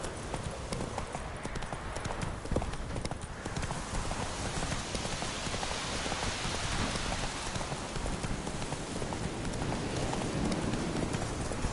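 Horse hooves galloping in The Witcher 3, a steady rapid clip-clop running under a constant wash of rain-like noise, even and unbroken throughout.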